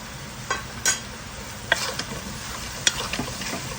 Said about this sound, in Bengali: এ পর্যায়ে আমি স্টেপ বাই স্টেপ মশলাগুলো দিব আর কষাবো